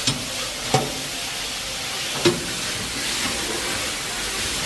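Frozen mixed vegetables sizzle and crackle in a hot pan, with a few sharp clanks of a utensil stirring against the metal.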